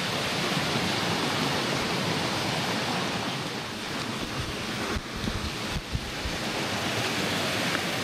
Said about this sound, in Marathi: ही बघा माझ्या गावची नदी जी तुफान वाहते